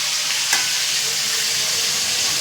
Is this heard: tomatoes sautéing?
yes